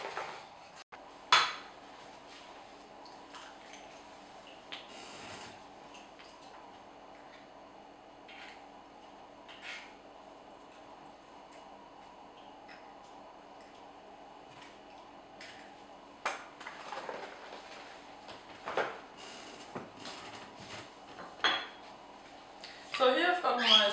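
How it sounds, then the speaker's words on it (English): Eggs are cracked and split into yolks and whites across bowls for Salzburger Nockerl, with quiet, sparse clinks of shell, bowl and utensil over a soft room hush and a busier clatter near the end. "So the first step is that I have to separate the eggs into egg yolks and egg whites"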